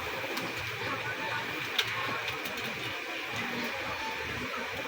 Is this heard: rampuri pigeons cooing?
yes